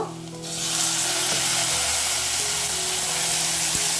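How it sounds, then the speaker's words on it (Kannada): Tomatoes and onions fry in hot oil, a steady loud sizzle that swells in after a quiet first half-second and holds close and continuous, with a low background hum. "ಟೊಮೆಟೊನು ಸಹ ಆಯ್ತಾ ಚೆನ್ನಾಗಿ ಸಾಫ್ಟ್ ಆಗೋ ತನಕ ನಾವು ಇದನ್ನು ಹುರ್ಕೋಬೇಕು"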